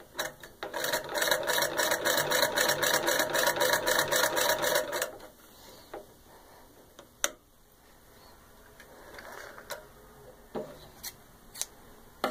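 An antique 1890s New Remington treadle sewing machine stitches in a fast, even rhythmic clatter for about five seconds, then stops, leaving faint mechanical clicks and knocks.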